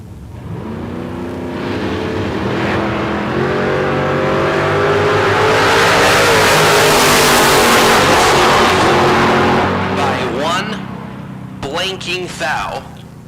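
A silver 1969 Camaro launches at a drag race bracket event, its engine rising to a loud, sustained roar that builds and then fades, with sharper mechanical bursts near the end.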